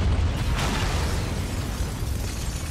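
A loud, sustained explosive blast as a library is blown up in the game Quantum Break, a burst near the start followed by a rolling, rumbling roar that continues without talk.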